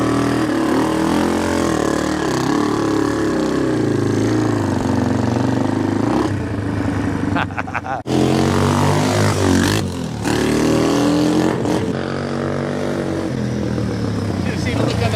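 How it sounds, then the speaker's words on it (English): A Big Wheel 200 three-wheeler engine revs and labours climbing a steep off-road wall, a loud buzzing drone that rises and surges with throttle blips, under someone talking over it. "Watch a big wheel make easy work of this straight up wall right here."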